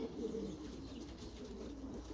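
Racing pigeons at their morning feed give low, soft cooing that repeats through the short stretch, faint and muffled, with slight shuffling in the background.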